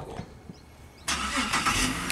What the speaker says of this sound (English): I remember when my car sounded like that.